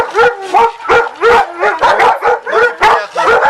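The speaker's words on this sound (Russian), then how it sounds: "постоянно там сидит и вот так вот лает все время" A large dog that stays near a central bus stop in the city barks steadily and loudly, a rhythmic run of about ten close barks with short gaps, no talk over them.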